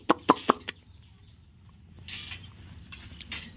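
Country chickens in a poultry shed let out four sharp, rapid clucks up close, followed by quieter shuffling and faint creaking as the birds move about.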